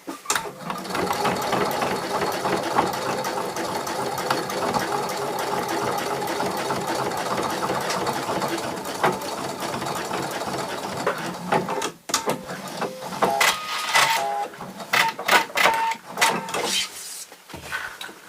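A sewing machine stitches a small round purse with matching thread, a steady fast whirring run that breaks into short start-stop bursts toward the end.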